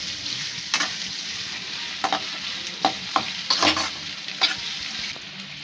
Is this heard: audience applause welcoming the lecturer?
no